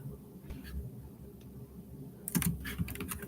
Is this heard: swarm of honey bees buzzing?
no